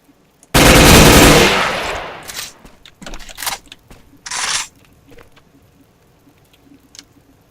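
M4 rifle fire in the Oblivion Lost mod video game: a loud sustained automatic burst followed by several shorter bursts and scattered single shots, fairly close, with no talking.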